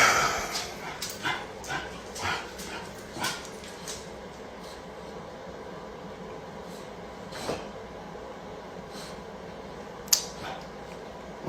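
A dog that swallowed an Adderall capsule makes scattered short barks and yips indoors, fairly distant and moderate in volume, over a steady background hum.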